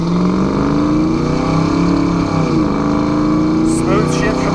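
The 5.0 V8 of a 1989 Ford Mustang GT revs up with a rising drone, dips briefly as the AOD automatic transmission shifts, then pulls on; a voice speaks near the end.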